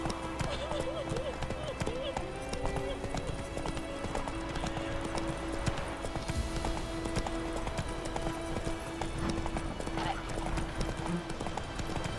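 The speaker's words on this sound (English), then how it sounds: "Whoa there, Roach." Horse hooves clip-clop in a steady galloping rhythm in The Witcher 3 game, continuous and fairly close, with a horse's faint whinny and voices talking over the hoofbeats.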